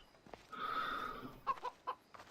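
A rooster clucks in Assassin's Creed Odyssey, a quiet drawn-out call followed by a few short clucks in quick succession, faint and without talk.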